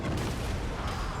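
A cannon volley in the fantasy strategy game Total War: Warhammer 3 sounds as one dense, booming rumble, loud and continuous for just over a second with no voices.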